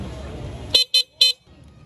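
Three short, sharp honks from a car horn fitted as part of a custom lighting package. The first two blasts come close together and the third follows after a brief gap, loud and near, cutting through steady background noise.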